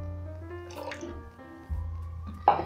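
Orange juice pours into a bowl of pancake batter in short wet glugs and drips, ending with a louder splash.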